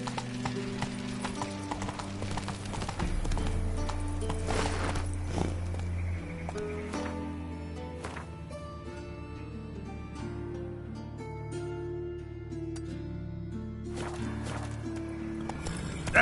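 Roach the horse's hooves clip-clop at a quick pace in The Witcher 3, set against a loud, steady bed of game music and ambience.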